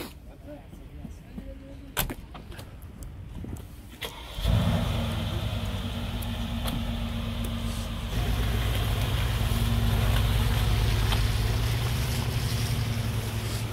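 Mercedes G-Class 4x4² SUV in a snowy parking lot at an auto show starts up and pulls away: a loud, steady low engine rumble kicks in after a few seconds of quieter background and holds until the end.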